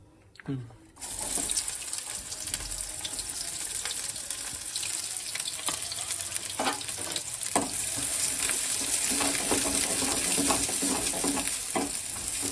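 Green chillies and a large onion hit hot oil with a sudden loud sizzle that settles into a steady, bright crackle, with occasional stirring clatter and scraping against the pan.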